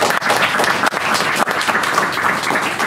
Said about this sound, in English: all of us, worth a round of applause